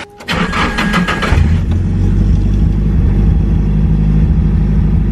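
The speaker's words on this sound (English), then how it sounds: "You might notice that my idle is a little bad or a little high right now" A Nissan S13 car engine catches and settles into a steady, slightly high idle, a loud, close, continuous rumble with no talking.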